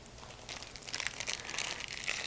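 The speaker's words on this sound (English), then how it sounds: "We're going to unwrap these Twinkies and get them layered on the bottom of our dish." Plastic wrappers crinkling and crackling as Twinkies snack cakes are unwrapped by hand for a layered dessert in a 9x13 baking dish, a close, steady rustle that grows slightly busier toward the end.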